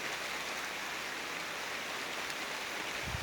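Heavy rain pours down in Bartın Ulus, a continuous broadband roar of drops striking surfaces, constant and enveloping, with a brief low knock near the end.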